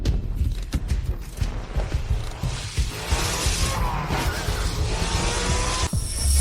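A car in sport mode accelerates hard, starting with clunks and mechanical knocks, then building into a loud, sustained engine roar with tire noise before cutting off abruptly near the end.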